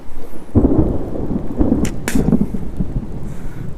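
Heavy thunder rumbles and cracks over steady rain during a massive storm, with several sharp close claps and a constant rain wash beneath.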